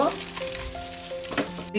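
Capsicum and red bell pepper fry in a pan for Schezwan fried rice, a brief close hissing sizzle with a faint scrape of stirring.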